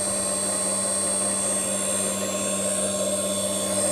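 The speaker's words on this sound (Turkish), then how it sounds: "Motor dönmeye başladı." An electric motor run by an ABB ACS 350 variable-frequency drive spins up, giving a loud, steady mechanical whir with constant tonal hum and broadband whine that stays even throughout, with no talking.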